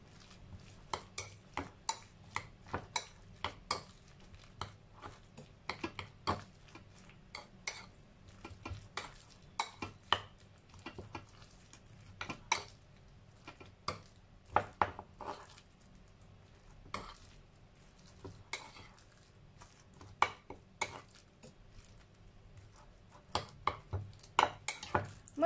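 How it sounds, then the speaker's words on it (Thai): A spoon stirs and scrapes a minced pork mixture with seasoning sauce in a bowl, making soft, irregular clinks and squishy taps that repeat steadily, close up and fairly quiet, with no talking. "แล้วก็ซอสปรุงรสค่ะคนคลุกเคล้าส่วนผสมทุกอย่างให้เข้ากันนะคะ"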